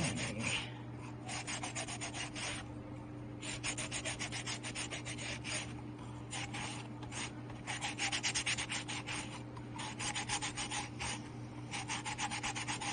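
Very coarse sandpaper is rubbed rhythmically over a polymer clay inro box, giving repeated scratchy strokes in quick runs with short pauses, close and moderately loud against a faint steady hum.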